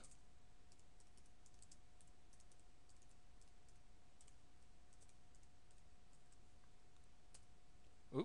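Light clicking of computer keyboard keys in quick, irregular bursts over a quiet room with a faint steady hum, ending in a sharper knock.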